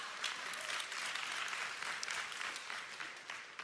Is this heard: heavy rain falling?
no